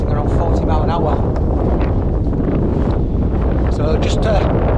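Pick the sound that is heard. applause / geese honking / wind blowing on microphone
wind blowing on microphone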